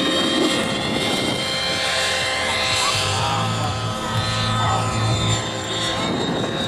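RC helicopter flipping upside down and sweeping past in a low flyby, its whining rotor and motor loud and continuous, shifting in pitch as it maneuvers nearby.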